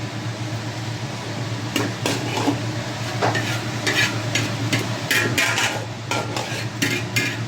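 White and red onions frying with pork for a pork steak, a steady close sizzle with repeated scraping and clinking stirs from a utensil against the pan, no talking.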